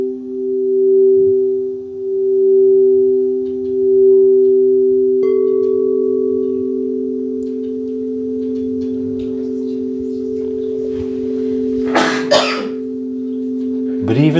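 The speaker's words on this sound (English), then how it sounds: "the most fundamental sound we can make, humming" A group hums together in a church setting, producing sustained steady tones that shift pitch partway through and continue with a low drone, with brief coughs and rustling near the end.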